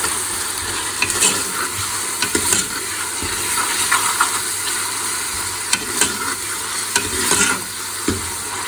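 Oil sizzles steadily with garlic, ginger and spices frying, broken by a few sharper clinks and scrapes of stirring, close up with no voices.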